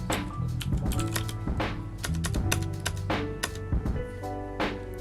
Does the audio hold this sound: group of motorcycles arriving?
no